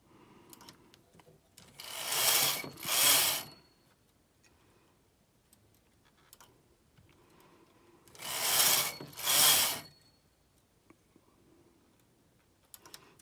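Brother knitting machine carriage doing an automatic e-wrap cast-on, heard as two bursts of sliding, rubbing mechanical clatter, each a double sweep, separated by quiet pauses with faint ticks.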